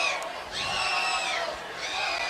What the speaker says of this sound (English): They're just doing a roller coaster cheer.